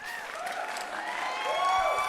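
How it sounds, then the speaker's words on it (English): Applause and clapping from an audience during a sleight-of-hand magic livestream, a steady, moderately loud patter of many hands with a little cheering over it. "Thank you kindly for the claps."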